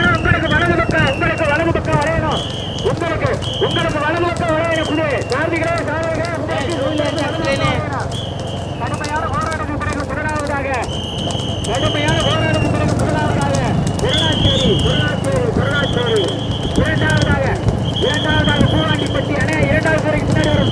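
Horses race in a village horse race, their hoofbeats drumming as a rapid, continuous clatter beneath a commentator calling over a loudspeaker, with engine noise in the background.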